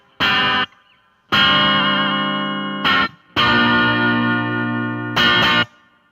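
Electric guitar played through a Hotone British Invasion Nano Legacy amp with reverb added. Loud, distorted chords ring out in sustained strums separated by short stabs and gaps, with a reverb tail and chorus-like shimmer, and no talking.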